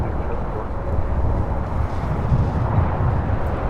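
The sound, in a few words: American Airlines A321 jet taking off from LAX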